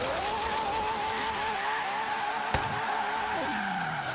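A Lamborghini drift car in Forza Horizon 3 slides with a steady engine drone and continuous tire squeal, a brief sharp click partway through, the pitch dropping near the end.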